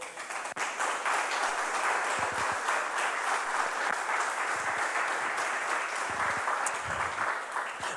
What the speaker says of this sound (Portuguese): Só se você crê, aplauda ao Senhor.